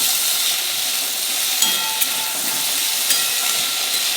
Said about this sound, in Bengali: নুন দিয়ে আর একটু ভাজবো।